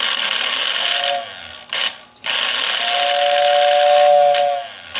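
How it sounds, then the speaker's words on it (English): A thin, breathy whistle on a circa 1936–1939 Lionel 636 toy train locomotive hisses in steady bursts, giving a short tone, a pause, then a longer sustained hoot, close and fairly loud. "So they had a whistle. See if I can get it going."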